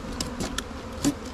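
Honeybees in Alaska buzz around their hive during a final check as it is closed up, giving a steady close hum with a few sharp louder passes of single bees near the ear.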